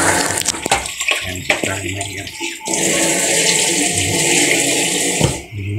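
Tap water runs and splashes as vegetables are washed for cooking adobo and sautéed squash, a continuous gushing stream with short breaks, heard alongside kitchen handling noises.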